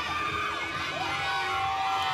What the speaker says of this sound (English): as the crowd intensifies here